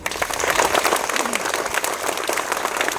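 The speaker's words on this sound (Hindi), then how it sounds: "और तालियों में तुम लोग क्यों कमी रखते हो?" Clapping from a crowd of students at a school award ceremony, brisk and steady throughout, with a voice briefly audible over it.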